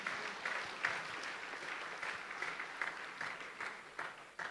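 Applause from a church congregation at a morning Jesus celebration in the PICC hall, a steady, fairly quiet wash of clapping lasting the whole stretch, with a few louder bursts rising out of it.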